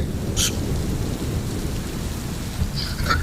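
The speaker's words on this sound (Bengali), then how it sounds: "এটা হচ্ছে রাশিয়ার বৃষ্টি।" Heavy rain falls steadily in Russia, a dense continuous hiss close by, with faint distant thunder rumbling low beneath the downpour and no voices.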